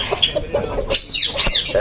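Chickens clucking and a Paper White Aseel rooster calling in short bursts, fairly close, with farmyard background noise.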